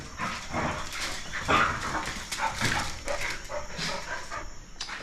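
Young dogs play together indoors, giving soft whimpers, short yips and panting amid scuffling, fairly close and continuous.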